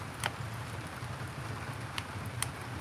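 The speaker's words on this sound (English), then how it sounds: "it's been raining all day actually." Rain falls steadily outdoors beside a wood stove, a constant even hiss with a few sharper drips or taps standing out, moderate in level and with no talking.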